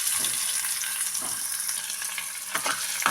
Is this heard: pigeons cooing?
no